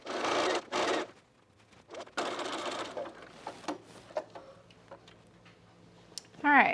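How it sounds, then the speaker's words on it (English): A sewing machine stitches the side seam of a Dewey dress bodice, its motor whirring in bursts of a second or so with pauses for short ticks and clicks, fairly close and alone. "let's sew our side seam"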